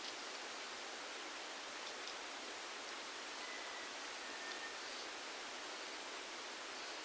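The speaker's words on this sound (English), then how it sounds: "Then I'll be wetting it with water." Water is poured to wet the soil of snake gourd and tomato seedlings, a steady, soft splashing hiss that runs unbroken and faint from start to finish, with no talking.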